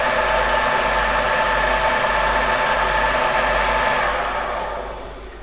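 A Creed 7B Mark 1 teleprinter motor runs with a steady, loud mechanical whir and hum, holding even for several seconds before winding down and fading toward the end.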